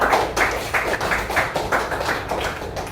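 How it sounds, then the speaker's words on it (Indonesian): Applause in a primary school classroom during a religious education lesson: a crowd of children clapping in quick, dense bursts, fairly close and steady, with no talk over it. "Aplaus dulu."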